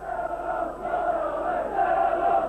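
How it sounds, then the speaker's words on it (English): A football crowd roars and chants at the final whistle of a 1-0 Gillingham win, a sustained, distant mass of voices rising and swelling in waves. "on the final whistle, the crowd instantly showing whose army they belong to"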